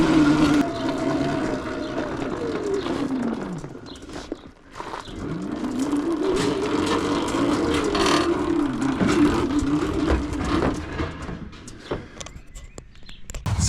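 Fat-tire electric motorbike being ridden, a rising and falling motor whine that sweeps up and down in pitch over rushing tyre and wind noise, briefly dipping near the middle before picking up again.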